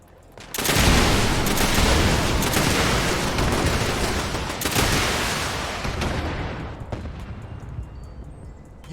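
Gunfire in Fallout 76 rattles in a loud, dense burst of rapid shots that runs for several seconds before cutting off, leaving a fainter tail.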